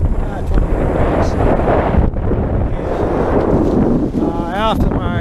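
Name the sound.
strong wind on a sailboat at sea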